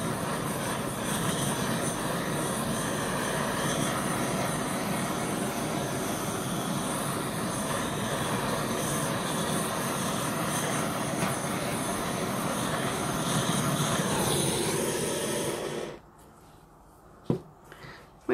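A handheld torch heats a layered acrylic paint pour with a steady, soft roaring hiss that runs for about fifteen seconds. It then cuts out, leaving a quiet room with a couple of small knocks.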